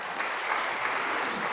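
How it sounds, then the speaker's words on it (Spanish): A church congregation applauds the pastor after a prayer at a Sunday service, a short burst of dense, steady clapping from a crowd in the room. "Un aplauso al pastor."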